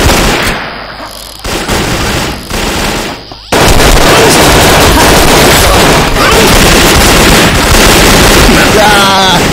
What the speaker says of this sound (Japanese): どこだ、どこから狙撃してるんだ。